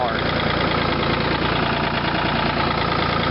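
Ford 3600 40 hp tractor engine running steadily while the tractor drives along at about 12 km/h, a loud, continuous mid-to-low rumble with a rough knocking texture, heard up close from the seat with a voice faintly present.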